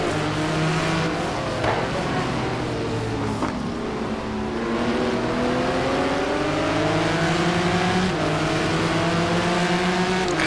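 A Corvette and a Maserati GT-1 race car battle through an off-camber, slightly elevated section at Fuji, engines roaring loudly and continuously with rising revs and gear shifts, the pitch climbing and dropping as they accelerate together.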